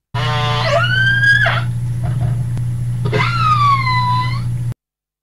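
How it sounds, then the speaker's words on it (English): Killer whale calls: two long rising-and-falling whistles with bright stacked harmonics, separated by a brief gap with a few faint clicks, loud and clear over a steady low hum. "Killer whale."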